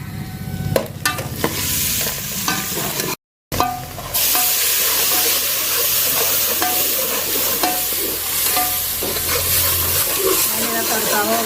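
Tadka tempering for yogurt kadhi sizzles and hisses loudly in hot oil while being stirred, a continuous frying crackle with scraping stirs, briefly cut off partway through.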